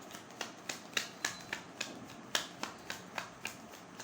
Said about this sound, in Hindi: Let me shuffle again.